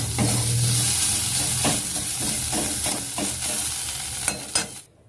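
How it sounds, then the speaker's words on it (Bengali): A fish head fries in a hot pan with a steady, close sizzle and hiss, broken by a few sharp spatters and stirring scrapes before cutting off abruptly at the end. "একটু লাল লাল করে ভেজে নেব।"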